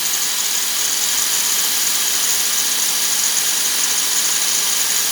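Grinding on a mini-mill setup rigged for lathe-style work with a welded part. It is a steady, loud, continuous abrasive hiss and whine that holds unbroken throughout.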